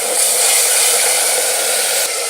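Loud steady hiss and sizzle of hot water poured into spices frying in a pan, continuous for a couple of seconds with a brief dip near the end.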